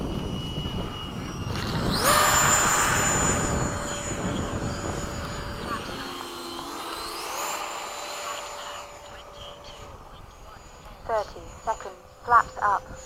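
A BAE Hawk jet in formation touch-and-go landings roars past, its engine swelling loudly then fading with a falling whine, while people talk nearby throughout and closer clicks and bumps follow at the end.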